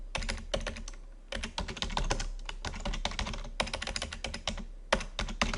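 Steady, rapid typing on a computer keyboard while entering text into a spreadsheet cell, with close, crisp key clicks in dense bursts and short pauses between them.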